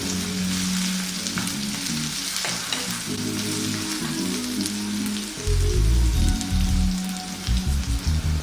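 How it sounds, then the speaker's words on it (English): Onions fry on high heat in a pan, a dense, constant sizzle like rain with stirring and low rumbling thumps under it, close and unbroken by talk. "on this high heat, we're going to spin that around maybe for about 3 to 4 minutes, just so that the onions soften"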